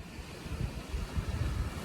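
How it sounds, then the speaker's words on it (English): Big ocean waves crashing offshore in Hawaii, a low rumbling surf with gusty wind noise, distant and swelling and fading without voices. "just watching really big waves crash"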